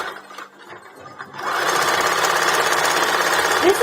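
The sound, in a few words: sewing machine doing a straight stitch on a fabric tube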